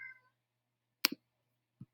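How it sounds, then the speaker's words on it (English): A cat crying indoors, one brief meow at the start, then a couple of short sharp clicks and a faint low chirp, all quiet against near silence. "And I have a crying cat."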